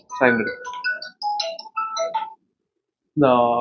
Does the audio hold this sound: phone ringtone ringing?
yes